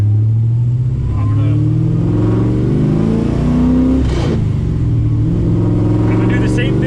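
A boosted car with an LSA-equipped 6.0 engine pulls away hard in first gear, its engine note rising in loud revving sweeps, briefly dropping around a shift before climbing again, with a voice talking over it.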